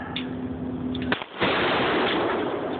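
A single loud shotgun blast fired outdoors, a sharp broadband crack near the middle followed by a sustained rumbling tail and steady background noise.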